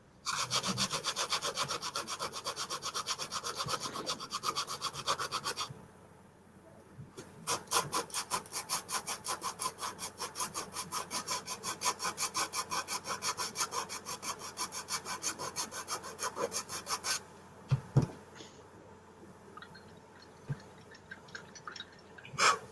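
Rapid, rhythmic back-and-forth sawing strokes rasp loudly, pause briefly, then continue in a long steady run before trailing off into scattered knocks.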